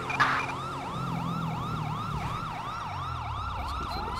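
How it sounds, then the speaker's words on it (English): A police siren in the video game GTA V with the LSPDFR mod yelps continuously in a fast, regular rising-and-falling cycle during a freeway pursuit, steady in loudness, with a faint engine rumble beneath. "That's because of the siren."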